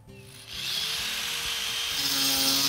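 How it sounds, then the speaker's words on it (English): An angle grinder cuts through tile backer board, its disc spinning up with a steady, loud whine and gritty abrasive hiss that holds continuously once engaged. "The next step is measuring and marking the tile backer board, and then use an angle grinder to cut it to size."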